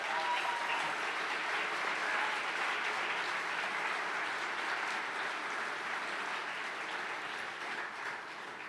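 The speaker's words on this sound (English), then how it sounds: "Let's please give them a round of applause." An audience at a gala applauds steadily, a dense wash of clapping that holds for several seconds and eases slightly at the end.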